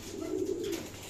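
A racing pigeon back from a training release coos once, a soft low rolling call lasting under a second, close but quiet over faint background noise.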